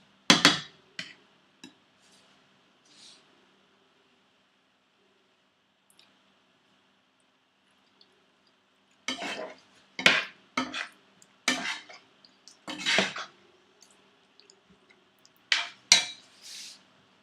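Lamb pieces sautéed in spices over a low flame, stirred with a utensil that clatters against the pan in sharp, irregular bursts, quiet at first and then denser.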